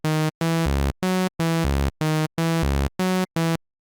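A plain synth melody on a Serum init patch, a bright buzzy saw-like tone playing about eight short detached notes in a steady rhythm, clear and alone before stopping.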